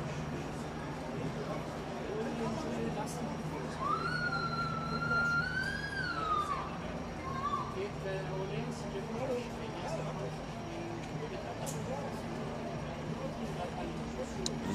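In Stockholm in April 2017, just after a terrorist attack, a police or emergency vehicle siren wails in rising and falling sweeps at a moderate distance, over a constant rumble of street noise and murmuring voices.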